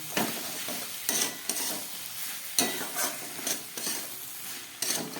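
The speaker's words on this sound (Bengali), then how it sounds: "খুব ভালো করে আমার কষানো হয়ে গেছে সমস্ত মশলা দিয়ে।" Dried fish frying with chilli, black pepper and spices in a pan, a steady sizzle broken by sharp scraping stirs of the spoon every second or so, close and fairly loud.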